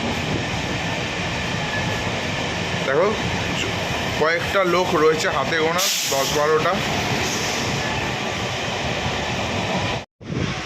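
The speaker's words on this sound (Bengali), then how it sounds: "আমি তো লোকাল ট্রেনে চললাম পুরী" A local train runs from Howrah to Puri, its carriage rumbling and hissing steadily throughout while someone talks over the noise, with a brief dropout near the end.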